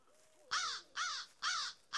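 A crow caws four times in a steady rhythm in a dinosaur horror video game, each call loud, harsh and close, with short pauses between them.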